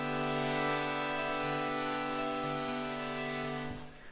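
Layered ambient synth drone pad built by blending several sounds together, a steady sustained chord held evenly before it fades out near the end, with no voices.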